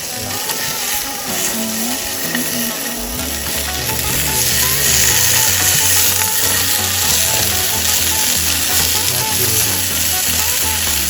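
Fried rice frying in a pan at a campsite, loud continuous sizzling that swells after a few seconds, with stirring scrapes and faint outdoor background noise.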